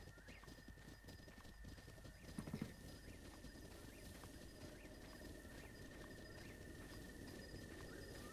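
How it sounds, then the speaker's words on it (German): Horses trot in the game Zelda Breath of the Wild, giving a soft, regular clip-clop of hooves that continues at a low level throughout, with one brief louder thump partway through. "Das sind Pferde. Pferde machen das so. Laufen ein bisschen und bleiben so wieder stehen."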